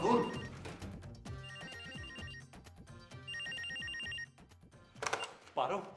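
A telephone rings in bursts of a trilling bell tone, with voices and music at the start and the end, in a drama scene.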